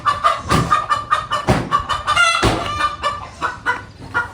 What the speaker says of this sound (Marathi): हे बघा किती बारीक बारीक पिल्ले आहेत